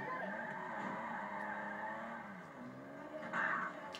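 A car in GTA 5 Online skidding and spinning out, a sustained tire screech with a wavering engine tone, steady and close, rising briefly near the end.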